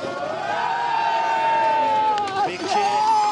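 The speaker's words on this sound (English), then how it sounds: "Big cheer for Huffy as he gets out of the car." A crowd cheers at a WTCC touring car race in Marrakech as winner Rob Huff climbs out of his Honda, a steady roar of voices with a commentator talking over it.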